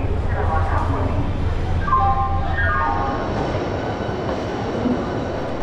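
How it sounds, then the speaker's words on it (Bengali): A train pulls out of Howrah station with a loud, continuous rumble of wheels, a brief horn-like tone in the middle and rattling carriage noise throughout, close and steady. "সবে মাত্র হাওড়া থেকে ট্রেন ছাড়লো।"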